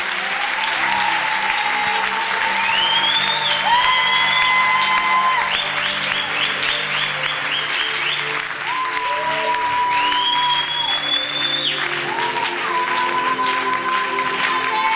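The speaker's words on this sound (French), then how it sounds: "On acclame le Seigneur, on acclame Dieu." Sustained applause from a church congregation fills the hall, steady and loud throughout, with music tones running underneath.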